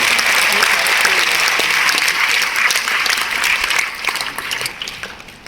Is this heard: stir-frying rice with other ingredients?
no